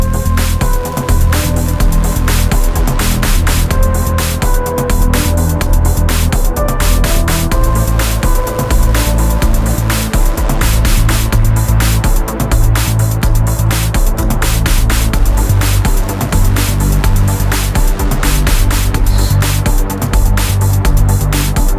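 Electronic breakbeat track with synth plucks washed in reverb over dense continuous drums and bass, loud and steady throughout.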